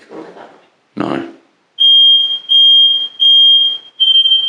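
A farmhouse fire alarm beeps in loud, shrill bursts, four in quick succession, just after a couple of brief voices.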